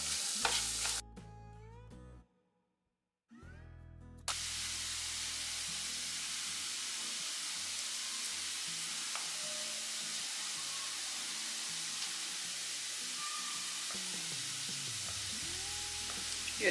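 Onions and paneer masala sautéing with salt in a pan, a soft continuous sizzle with occasional stirring scrapes, after a brief dropout near the start.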